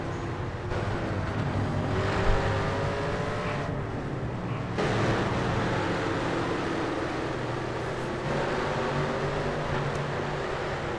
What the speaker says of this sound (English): The sound of the cars is fantastic.